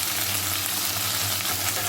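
Tomato pieces with bay leaves fry in hot oil in a pan, a steady close sizzle and crackle throughout, with no voices.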